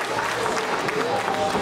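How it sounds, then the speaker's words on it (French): An audience at a wrestling show claps for a winning wrestler, a dense burst of applause with crowd noise under a voice talking. "Et on l'applaudit."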